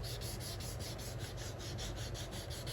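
Sandpaper rubs over the painted cab of an RC Toyota Hilux truck in quick, even back-and-forth strokes, close and quiet, with no voices.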